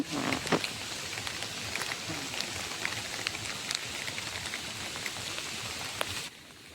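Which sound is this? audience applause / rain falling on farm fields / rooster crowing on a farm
rain falling on farm fields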